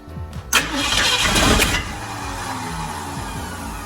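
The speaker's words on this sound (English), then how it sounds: "Well, listen to that starter." The starter on a 1969 Ford F100 whirs for a moment before the engine fires with a sharp bang, revs up briefly, then drops to a steady idle, all loud and near.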